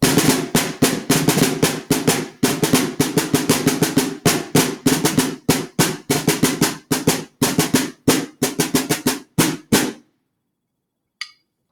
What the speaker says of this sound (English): So I'm going to put this rubber pad on it so it doesn't blow out the computer speakers here.